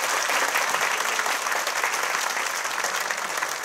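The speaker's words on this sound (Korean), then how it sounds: "박수 한번 주세요" Audience at an Incheon United fan day event giving a round of applause, dense sustained clapping that swells slightly and eases, continuous and fairly close throughout.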